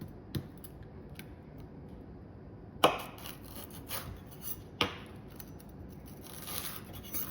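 A knife crunches through a graham cracker for chocolate-covered s'mores, a few sharp snapping cuts spaced seconds apart over faint kitchen background, no talking.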